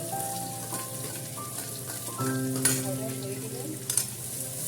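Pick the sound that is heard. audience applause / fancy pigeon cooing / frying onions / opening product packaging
frying onions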